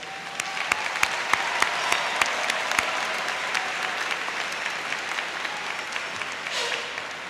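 An audience at a high school graduation ceremony in Ocala, Florida gives a long round of applause for the evening's speakers, with steady clapping from a large crowd and a few louder claps up front.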